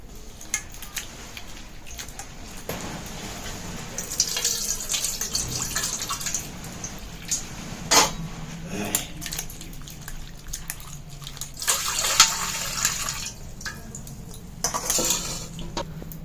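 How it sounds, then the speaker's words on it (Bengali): Two bitter gourds rinsed under a running tap, water splashing and dripping with occasional clinks of a bowl or utensil, close up with no talking. "এখন করলাগুলো জল দিয়ে ভালো করে ধুয়ে নিব।"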